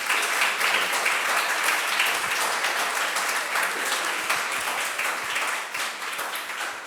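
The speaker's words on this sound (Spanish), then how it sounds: "a don José, un fuerte aplauso" An audience at a public-policy financing talk gives the speaker a strong round of applause, a loud, dense, continuous wash of clapping that holds steady and tapers slightly near the end.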